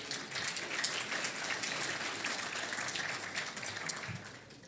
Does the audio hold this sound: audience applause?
yes